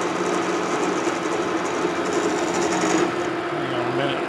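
Metal lathe making a final cutting pass on a pouring mandrel for a cane mill roller, a steady continuous mechanical hum and whir with a faint shifting tone near the end, loud and close.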